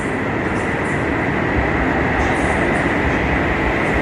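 A Koleje Dolnośląskie regional train rumbles steadily close by as it arrives at Wrocław Główny station, a continuous mechanical roar with faint rail noise as it moves slowly along.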